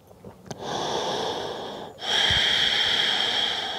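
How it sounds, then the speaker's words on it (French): Two long, audible ujjayi yoga breaths drawn through the nose with a soft throaty rasp, close and steady, separated by a brief pause. "Mets en place des respirations Ujjayi, des respirations par le nez."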